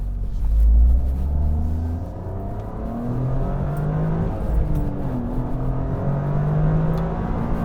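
Engine of a 2023 Toyota GR Corolla Morizo Edition hot hatch on Michelin Pilot Sport Cup 2 tires, droning and revving steadily throughout with shifting pitch as it accelerates, a continuous close, loud rumble with no talking.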